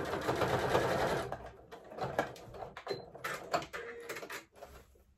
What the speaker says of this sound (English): I just line up the edge here with the edge of my sewing machine foot to hold it in place. And just do a little line of stitching.